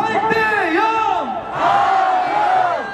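A large crowd of protesters outside Korea's Constitutional Court shouts together in rough unison, two sustained rising calls for the president's removal separated by a brief dip, loud and close.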